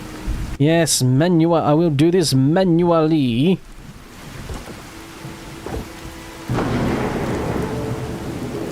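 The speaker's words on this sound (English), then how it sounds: "Thunder and rain outside." Thunder rumbles and rain falls steadily in a Fallout 4 game world, a low continuous roar with a louder rolling swell late on; someone speaks over the first few seconds before the storm carries on alone.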